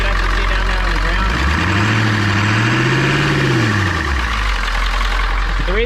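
A 7.3-litre diesel engine in a 4x4 van idles steadily and loud up close, with a low rumbling drone whose pitch rises and falls once midway.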